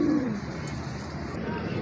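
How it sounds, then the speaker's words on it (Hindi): Low, throaty cooing from a Ferozpuri pigeon close by, a steady rumbling coo over faint background hum. "ये है जी प्योर एक नंबर फिरोजपुरी कबूतर।"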